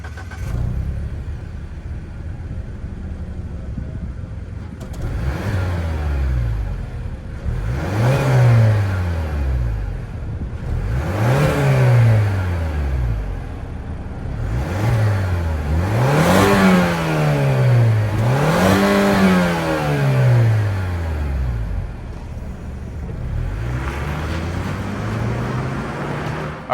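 A 2024 Mazda CX-50 with a 2.5 liter turbo four-cylinder and dual exhaust revs repeatedly from idle, each blip rising and falling in pitch, with a few quick successive revs in the middle, loud and close with no talking.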